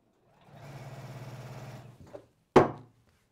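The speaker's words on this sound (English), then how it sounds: "Go back to Wendy, she's still sewing." A sewing machine stitches quilt strips in a steady, rapid run of about a second and a half, then stops, followed by a short bump and a sharp clack.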